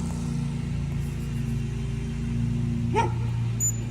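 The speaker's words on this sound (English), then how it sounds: "Heard the dog. He just chose to bark" A reactive dachshund gives a single short bark partway through, fairly faint against a steady low rumble of traffic or engine noise in the background.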